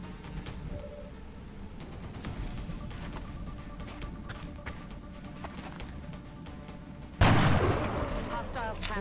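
Rocket and sniper fire in XCOM: Enemy Within (Long War), starting as a steady rattle of gunfire with voices talking over it, then a sudden loud blast near the end that stays loud.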